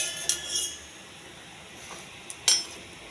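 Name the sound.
fried cashews being put onto a plate, utensils clinking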